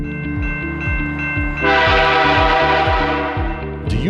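Train horn held over a rumbling passing train at a railroad crossing, with steady clattering wheel beats and a loud sustained horn blast joining partway through, close and continuous.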